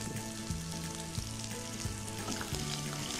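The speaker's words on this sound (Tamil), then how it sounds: "கொஞ்சம் வெங்காயம் போட்டுக்கலாம்" Chopped onion fries in a hot pan with ginger and green chilli, giving a continuous close crackling sizzle at an even level throughout, with no talk over it.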